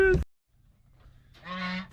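A goose on a farm honks while being caught and handled: one sharp honk at the start, a short pause with faint rustling, then a longer nasal honk near the end, close and loud.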